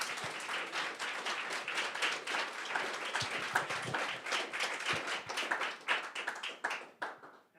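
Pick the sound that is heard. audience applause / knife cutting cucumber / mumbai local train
audience applause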